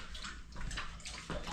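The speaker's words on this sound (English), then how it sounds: "having his water, drinking lots of water" Dog lapping water from a bowl, a close, quiet run of wet sloshing bursts in a quick uneven rhythm with no talk.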